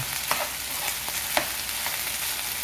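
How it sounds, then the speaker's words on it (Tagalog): Garlic fried rice (sinangag) frying in a pan, a continuous close sizzle broken by repeated light scraping strokes as the rice is stirred. "Ganyan po ako mag ano guys mag luto ng sinangag tapos halo-haloin po natin"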